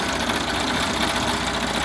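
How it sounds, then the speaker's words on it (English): A Malco multi-needle embroidery machine stitching out a design gives a loud, continuous rapid mechanical whir and chatter, steady and close throughout with no pauses or voices. "here I am stitching it out"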